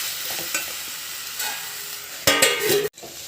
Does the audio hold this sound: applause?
no